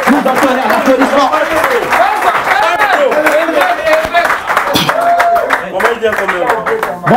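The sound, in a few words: applause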